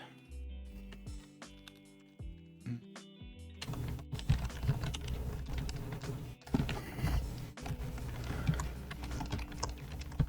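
Quick, uneven keystrokes on a computer keyboard tapping out code, starting sparse and thin, then turning busier and louder over a steady background bed with no one talking.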